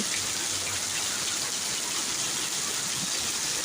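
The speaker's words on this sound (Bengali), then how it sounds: "দেখো মালয়েশিয়ার বৃষ্টি কিভাবে দিতে আছে।" Heavy rain pours down in Malaysia as a dense, steady, unbroken hiss of water, loud and even throughout with no voices.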